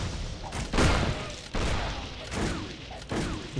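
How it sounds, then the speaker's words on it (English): A shotgun fires repeatedly at skeletons in the action RPG Torchlight 2, with about four booming blasts at roughly even intervals over a dense, noisy game backdrop. "I'm surprised the shotgun actually works on the skeletons"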